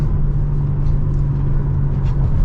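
A 2025 BMW M3 xDrive Competition cruises with its engine humming at low RPM, a steady loud drone and road rumble heard from inside the car.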